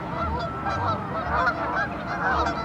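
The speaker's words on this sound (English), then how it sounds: "I don't think I've ever seen so many Canada geese in one place." A large flock of Canada geese gathered on open water honks repeatedly: overlapping nasal calls come close and fairly loud in an uneven, continuous chorus.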